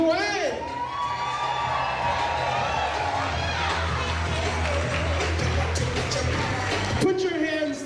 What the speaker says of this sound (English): Can I get another big round of applause for Sam Casciato and Tracy Wen?